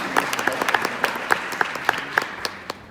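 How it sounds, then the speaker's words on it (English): An audience claps together at a pitch-training talk: steady, close applause with regular sharp peaks, loud and continuous throughout. "applause for this fine moment"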